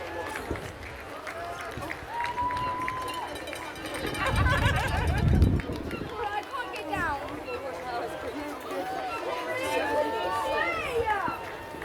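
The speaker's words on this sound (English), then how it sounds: "Fucking big crowds here, folks." A big, busy crowd of spectators lines the Brighton Marathon course in England, a close babble of chatter and calls with a louder swell midway, with a voice speaking over it.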